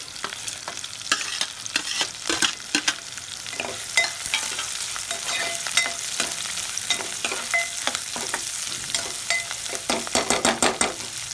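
Onions fry in a pan for a spicy chammakaya dish, giving a crackling sizzle with frequent sharp scraping and tapping strokes as the pieces are stirred, close and busy with no talk.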